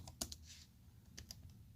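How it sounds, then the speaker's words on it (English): A few quick, faint keystrokes on a computer keyboard type a sudo command while installing Manjaro Linux, in an otherwise quiet room. "Why don't we go back and type sudo correctly?"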